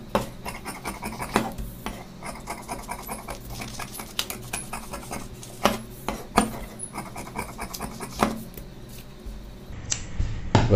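Scissors cutting blouse cloth for a beginner's tailoring project, heard up close as irregular crisp snips and clicks with light rustling of fabric between cuts, with no talking.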